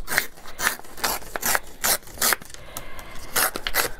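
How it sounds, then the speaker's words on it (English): Paper being torn away in short rasping rips while trimming excess from a handmade accordion journal, a series of close, crisp tears in quick bursts with no talking. "Now I am just going to tear off some of this excess"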